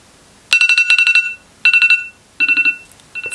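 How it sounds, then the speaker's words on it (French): A phone alarm going off in the morning: loud, bright electronic chirping in rapid pulsed bursts, three separate bursts with short pauses between, and a fourth starting at the end. "Ça c'était ma 3e alarme."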